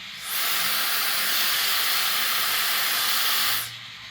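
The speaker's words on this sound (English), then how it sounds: "The steam is now pushing." A steady, loud hiss of steam from a portable vacuum steamer bursts on, holds evenly for about three seconds, then cuts off abruptly, close up with no talking.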